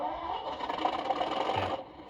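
A model railway locomotive's sound system runs its normal startup sequence, a steady mechanical whirring and hum, close and moderately loud for about two seconds.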